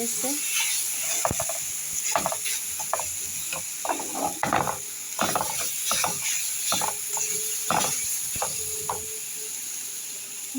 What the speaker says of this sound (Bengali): ভালো করে নেড়ে দিতেছি